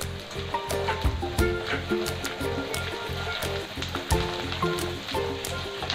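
Onion paste sautés in a pan with browned coconut paste, producing a close, lively sizzle and bubbling spatter with irregular pops, overlaid by a rhythmic low knocking that recurs throughout.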